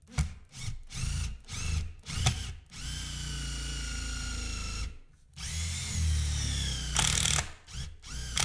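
A power drill drives screws into a wooden Adirondack table, whirring in several short bursts and then in longer steady runs with loud grinding and buzzing, close by and without talk.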